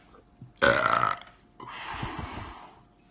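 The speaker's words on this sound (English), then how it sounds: "My burp's right here." A loud, drawn-out human burp rises sharply, then a second rougher belch follows after a short pause, both close to the mic with no talking over them.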